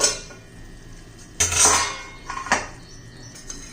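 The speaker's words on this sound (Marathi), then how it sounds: "आता झाकण काढून बघूया" A lid lifted off a cooking pot of gavar curry, a couple of distinct metallic clanks and clinks close by over quiet background, no voices.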